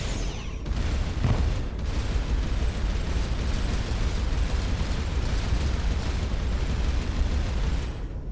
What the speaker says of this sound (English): Whoa, missiles.